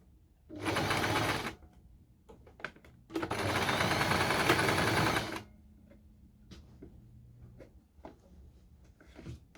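A sewing machine stitches scuba fabric in two bursts, a short run then a longer one, with clicks and small handling sounds in the quiet between.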